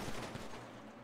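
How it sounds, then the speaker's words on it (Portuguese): A few faint bursts of gunfire come from a one-on-one shooting match in a video game, quick shots over a dull background rumble. "Tá, trocaram muito tiro."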